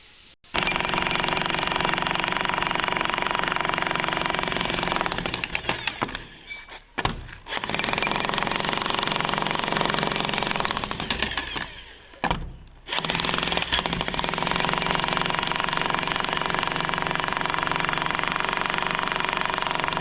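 An electric demolition hammer, a 16 or 24 kg breaker used for breaking a concrete roof, pounds loud and steady close by for the whole span, with two brief pauses in its hammering.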